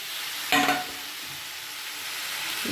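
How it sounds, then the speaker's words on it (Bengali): Vegetables tipped into a pan of tomato dal, with a sudden burst of sizzle as they land, then a quieter steady frying hiss with faint stirring. "এখন ভেজিটেবলসগুলো এর মধ্যে আমি ছেড়ে দিচ্ছি"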